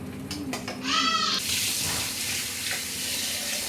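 Tap water runs steadily into a sink while dishes are washed with warm tank water at home, a broad hiss that swells after a brief clatter and continues alone at moderate loudness.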